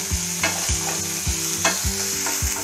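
Onions with salt sauté in a pan while a spatula scrapes and stirs them in a quick, regular rhythm over a steady sizzle, with no talk.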